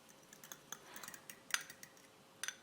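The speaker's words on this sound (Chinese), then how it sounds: "再把一个鸡蛋55克左右重打散" A single egg of about 55 grams is whisked in a bowl with a utensil for multigrain bread dough, giving faint, irregular clinks and taps with a few sharper metallic ticks, quiet and close.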